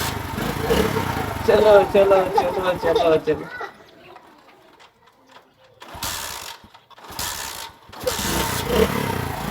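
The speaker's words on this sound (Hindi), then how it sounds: "अब करते हैं बाइक को स्टार्ट।" A motorbike is started at home and runs with a steady putter, a voice calling out over the engine at first, then a quieter stretch before louder engine bursts return.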